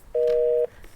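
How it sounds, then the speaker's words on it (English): A steady electronic tone from a dial-up internet modem connecting over a telephone line holds for about half a second, loud and clean with nothing else over it. "every time you want to check your email, you have to bear through this, dialing up"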